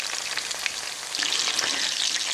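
Calamari and squid from a frozen fritto misto sizzle in a pan, a steady close crackling fry with no talk.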